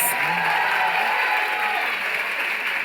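Continuous, even applause from a large audience at a Casa TPM event, a thick wash of many hands clapping at steady volume from start to finish.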